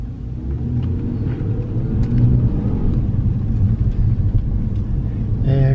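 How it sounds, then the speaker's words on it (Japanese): A Subaru Legacy B4 3.0R's flat-six engine hums steadily in a deep, continuous rumble as the car drives, with a slight rise near the end. "水平対向6気筒エンジンの魅力ですよね"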